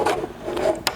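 The arm of a Sapphire 85 embroidery machine, fitted with a zigzag stitch plate, slides into position with a short, soft mechanical rasp and rub, ending in a small click.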